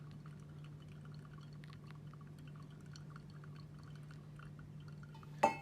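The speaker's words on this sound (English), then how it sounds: "Then I'll add again up to 180, 240, then 300 grams of water." Hot water poured over ground coffee in a V60 pourover cone, a faint, steady trickle under a low constant hum, with a brief sharp knock at the very end.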